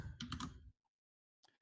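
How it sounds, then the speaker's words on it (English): Typing on a computer keyboard during a live coding session: a quick, close burst of keystrokes, then a short silence, then a few more clicks. "since you've got a lot of typing to do"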